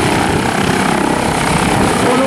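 Loud, steady attack helicopter rotor and engine roar during takeoff, filling the whole clip, close by, with a faint voice underneath.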